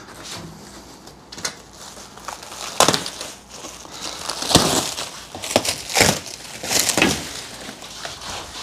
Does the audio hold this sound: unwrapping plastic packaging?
yes